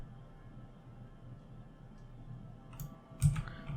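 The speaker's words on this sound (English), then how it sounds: "I'm just gonna press J on the keyboard to bounce around my keyframes." Computer keyboard keys pressed during editing work, heard as two or three faint, sharp clicks late in the clip over a steady low room hum.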